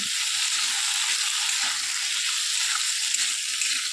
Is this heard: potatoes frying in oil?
yes